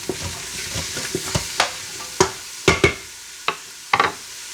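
Carrots and mushrooms being stirred into a pot of lobster soup, with a soft sizzle underneath and a series of scraping, clacking utensil strokes that grow sharper toward the end, no voices.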